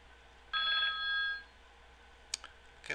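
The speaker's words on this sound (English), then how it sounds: "we got a bell ringing on some kind of indicator" A trading indicator's alert bell chimes once for about a second, a bright ringing tone at moderate level, followed by a few faint clicks in an otherwise quiet room.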